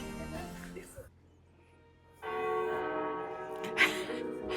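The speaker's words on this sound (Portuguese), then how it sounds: "O sino da igreja tocou as 3 vezes." A church bell rings in the medieval town of Zofingen, Switzerland, its resonant tolls clear and fairly close, rising after a quiet gap, while a voice is heard near the start.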